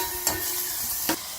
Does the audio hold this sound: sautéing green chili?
yes